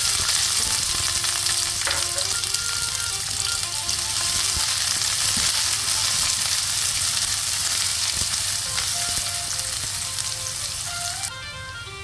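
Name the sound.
onion frying in hot oil with garlic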